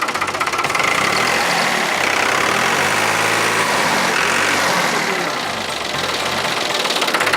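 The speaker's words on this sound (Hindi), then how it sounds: "चाचा जरा एक्सीलरेटर देना।" A tractor engine, one that keeps stalling, runs loud and close with a dense, continuous drone as the accelerator is applied, easing slightly near the end before rising again.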